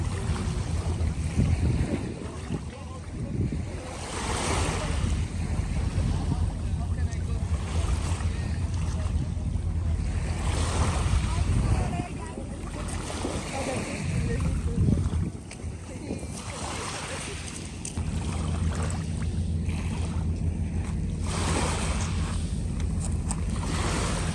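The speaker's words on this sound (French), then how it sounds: "J'aime trop entendre le bruit de l'eau" Waves wash and lap steadily on a small beach in Istanbul, Turkey, close by, a continuous soft surge with a low engine-like rumble underneath.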